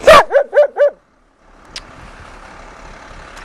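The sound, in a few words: dog barking in the snow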